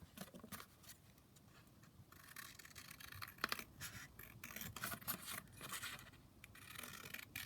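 Paper tag being cut out with scissors for a handmade junk journal, giving soft, irregular snipping and rustling strokes up close, with no talking.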